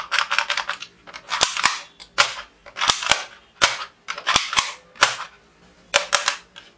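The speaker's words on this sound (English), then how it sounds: "Super powerful, Electforce toy gun." An Electforce toy gun firing, a plastic toy gun that pops out sharp cap-gun cracks in quick clusters of two to four shots with short pauses between, close and fairly loud, with no talking.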